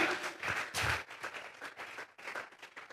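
Scattered clapping from a church congregation offering applause to God, a handful of uneven, fairly faint bursts of hands rather than a full roar, fading and returning over a few seconds.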